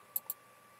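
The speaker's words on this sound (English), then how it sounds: "right click on your mouse and choose from." A computer mouse clicked twice in quick succession while working in AutoCAD, two faint, crisp, very short clicks close together over quiet background hum.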